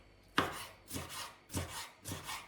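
Knife chopping a red bell pepper into cubes on a board, four distinct thuds spaced about half a second apart, close and fairly quiet, with no voices.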